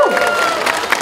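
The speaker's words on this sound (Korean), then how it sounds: "그럴 때일수록 큰 박수로 응원해 주셔야 됩니다" A festival crowd claps and cheers steadily throughout for a performing group, with scattered shouts rising above the dense applause.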